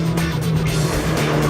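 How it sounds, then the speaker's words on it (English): A street car screams through a turn on a race track, a loud, close roar of engine and tires holding steady across a short burst. "You almost forget that you're in a street car as you're screaming through turn 5"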